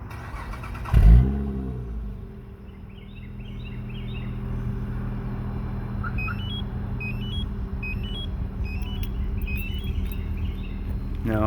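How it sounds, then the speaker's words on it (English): A modified 2007 Acura TL Type S with aftermarket exhaust starts with a loud burst, then settles into a steady, low idle rumble, close and continuous, with faint chirping crickets in the background. "Be able to hear the exhaust."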